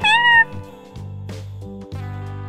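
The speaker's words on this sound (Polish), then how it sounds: "Średniej długości miałki to prośba o wodę lub jedzenie." A single short-to-medium cat meow at the very start, close and clear, followed by low background music.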